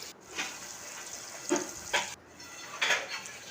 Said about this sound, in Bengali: এদিকে মাছ ভাজতে দিয়ে দিয়েছি।